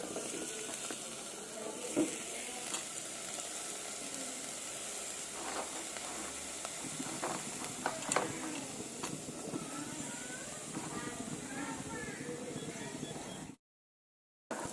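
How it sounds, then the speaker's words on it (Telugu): Onions, green chillies and tomato frying in a pan with leftover oil from fried dried lentil dumplings, giving a steady sizzle throughout with occasional stirring clinks, before a brief drop to silence near the end. "ఆ వడియాలు వేగిన దాంట్లో ఉల్లిపాయలు పచ్చిమిర్చి టమాటో వేసుకుని గోల్డెన్ బ్రౌన్ కలర్ వచ్చే వరకు వేగించుకోవాలి"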